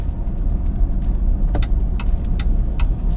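A 2025 GAC Emkoo hybrid car rolls along quietly in EV mode with only soft road and tire noise, a few faint clicks and rattles from inside the cabin, and no engine roar.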